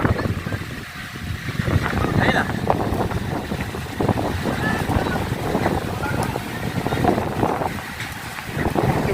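Strong wind buffets a boat out on the water, a steady roar of gusts and microphone wind noise that carries on throughout, with choppy water around the hull and people talking loudly over it.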